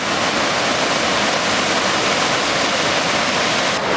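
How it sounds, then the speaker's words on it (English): A loud, steady roar of falling water from Horseshoe Falls in Rocky Mountain National Forest fills the air, broad and constant with no pauses, heard close by. "One thing most waterfalls have in common, they are loud."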